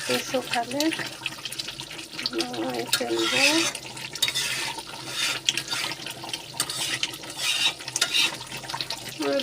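Pulao rice washed in a pot under a running kitchen tap, water splashing and swishing as the grains are stirred by hand, close by, with someone talking over it.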